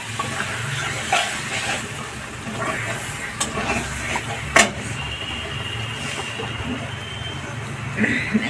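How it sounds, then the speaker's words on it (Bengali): Rinse water from a mixer jar poured into a simmering vegetarian cauliflower dhoka gravy, giving a steady close sizzling hiss with a few sharp clinks and splashes throughout. "মিক্সি ধোয়া জলটা দিয়ে দিচ্ছি, মিক্সি বাটি ধোয়া জলটা।"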